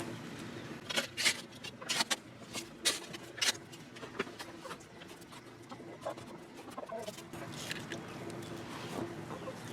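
Chickens clucking softly behind a garden fence, a few short scattered calls and scratchy patter at close range with steady outdoor background and no talk.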